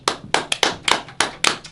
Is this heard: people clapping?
yes